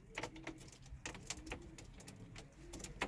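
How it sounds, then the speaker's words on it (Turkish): Soft, low cooing from Çorum tumbler pigeons repeats in short bursts against a rustling background with light flutters and scratching, moderately close. "Getirdiğim kuşları göstereyim arkadaşlar size"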